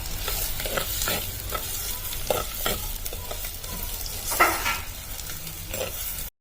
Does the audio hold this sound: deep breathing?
no